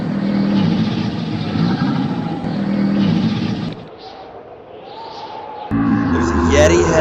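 A car stuck in deep snow runs its engine loud and strained, revving hard, then easing to a lower drone before surging again near the end.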